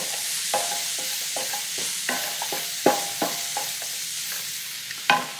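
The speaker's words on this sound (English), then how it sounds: "we'll put the onions in as well" Chopped onions frying in a pan, a steady sizzle broken by repeated scraping stirs and clacks of a utensil against the pan, close and clear with no talking.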